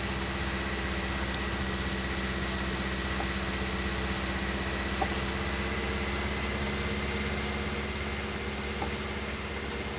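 A tractor engine idles steadily throughout on a wet day, a low, even rumble with a constant mechanical drone and faint vibration, close by and without speech.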